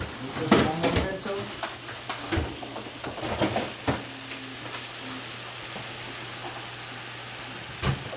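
Vegetables fry in a hot pan over a turned-up flame, a steady crackling sizzle that carries throughout, with a voice talking over it early on and a few sharp utensil clicks and taps.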